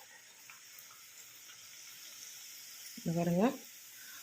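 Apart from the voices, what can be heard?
pappu billalu frying in oil over medium flame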